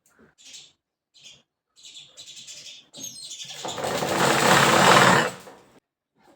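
Sewing machine stitching pieces of a pleated lehenga, a few short clicking stitch bursts followed by a longer, louder continuous whirring run of about two seconds, close up, with no talking.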